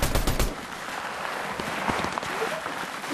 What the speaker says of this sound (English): Okay, look, I'll shoot again.